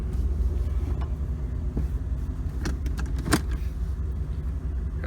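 A 1998 Jeep Grand Cherokee with the 5.2 liter V8 drives along, its steady low engine and road rumble continuous throughout, with a few faint clicks and rattles from inside the cabin.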